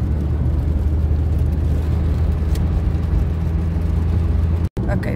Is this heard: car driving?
yes